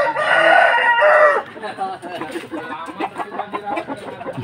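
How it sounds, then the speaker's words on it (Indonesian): A loud, close rooster crows once at a fighting-cock trainer's place in Pasar Minggu, South Jakarta, followed by clucking and scattered chatter from other Bangkok-breed cocks and some talk. "Ini jago-jagonya banyak."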